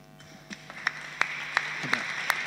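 Applause from an audience at a literary talk builds up gradually, starting thin with scattered claps and a low murmur, then swelling into steadier clapping with a few sharp, louder hand claps standing out.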